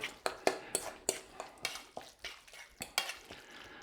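Chopped raw beef for tartare being mixed with a fork in a bowl, a quick series of about a dozen sharp clinks and soft wet squelches, close and alone.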